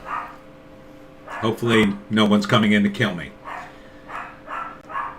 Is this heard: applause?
no